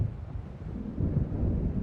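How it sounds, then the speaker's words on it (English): Deep rumbling thunderstorm in the video game Alan Wake Remastered, low rolling thunder and wind swelling steadily near an island lake shore, loud and continuous without speech. "It seems there's a storm coming."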